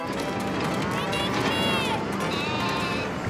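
An animated goat bleats in a few wavering calls, close and clear, over a busy background of running and voices in a children's cartoon.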